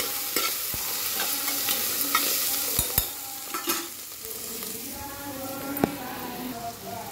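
Coriander and vegetables fry in a pan for vegetable biryani: a steady sizzle runs throughout, broken by sharp clacks and scrapes of a spoon stirring against the pan.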